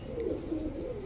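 A male racing pigeon, a 2020 bird with four races, gives one soft low coo that sits under steady background hiss.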